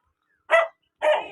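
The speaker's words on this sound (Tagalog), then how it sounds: "Talaga naman yung aso. Ayaw kaming tigilan." A dog outdoors gives two short, sharp barks about half a second apart, fairly close and clear against an otherwise quiet background.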